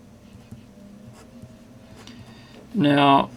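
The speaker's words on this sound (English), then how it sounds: "the way that I'm writing here is not necessarily going to show off that architect nib" A Hongdian N7 fountain pen with an architect nib scratches faintly and steadily across paper. A voice breaks in loudly for a moment near the end.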